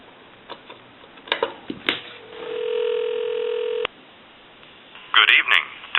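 Dialing on a Swedish American wood wall telephone under repair, a few sharp clicks and tones, then a steady dial tone held for about two seconds before cutting off, followed by a short burst of louder clicking.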